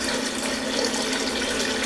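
Chicken stock pours steadily into a soup pot for sausage lentil soup, a continuous close, loud liquid gush with no break from start to finish.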